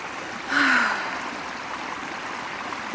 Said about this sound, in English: hearing that soothing water sound